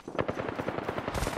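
Rapid automatic gunfire hitting the player in a video game, a dense, loud burst of closely spaced shots with no talking.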